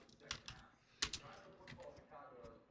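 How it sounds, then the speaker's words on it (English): A password is typed on a computer keyboard: a short, irregular run of distinct keystroke clicks, close and fairly quiet, with a brief pause between bursts. "Am I typing in caps?"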